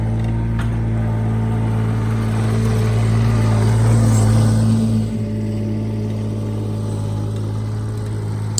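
A Bobcat 463 skid steer's engine runs steadily at a close, loud, even drone, swelling briefly under load before settling back to a level idle-like hum.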